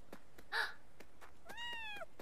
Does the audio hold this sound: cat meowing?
yes